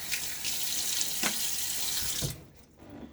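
A bathroom faucet runs steadily into a sink during a wet shave: a loud, close, continuous rush of water for about two seconds, which then cuts off and leaves quiet room tone.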